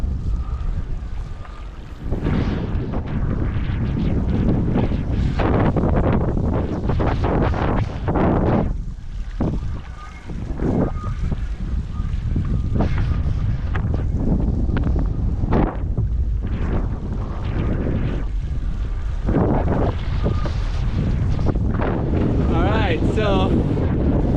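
Wind roars over open ocean during a stand-up paddle foil crossing from Maui to Moloka'i in a side wind and bumpy swell: loud, continuous buffeting on the microphone mixed with rushing water, surging and dipping throughout.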